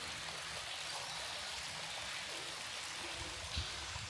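Rain dripping off a narrowboat onto canal water makes a continuous, soft, hissing patter with small splashes. It stays steady and faint throughout, with no voices.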